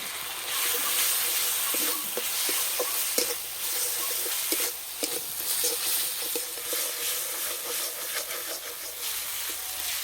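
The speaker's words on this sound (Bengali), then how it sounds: "একদম শুকনো শুকনো করে রান্না করে নেব। আর একটু রস নেই। এবার দেবো 1 চামচ বেসন" Prawn filling stir-fried with a spoonful of gram flour in a pan, a steady close sizzle with scraping stirring strokes throughout, no voices.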